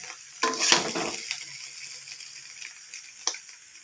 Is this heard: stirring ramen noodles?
yes